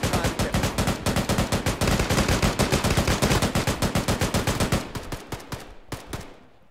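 Rapid bursts of airsoft gunfire during a milsim game, loud and nearly continuous for several seconds before thinning into a few separate shots and stopping.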